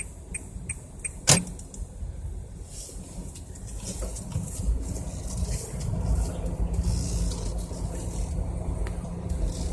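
An automatic-transmission car creeps forward into a narrow lane during a beginner driving lesson, its low engine and tyre rumble steady throughout, with a sharp click early on and faint bird chirps in the background.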